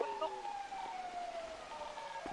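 Police car siren in Grand Theft Auto V, a steady wailing tone sliding slowly downward across the whole stretch, moderately distant and fairly faint against a low background hum.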